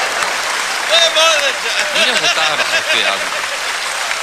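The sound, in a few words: audience applause at a comedy show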